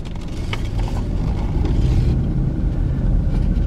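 Steady, continuous car engine and road rumble from inside a vehicle driving slowly through a residential street in a rural Oklahoma town, with no talking.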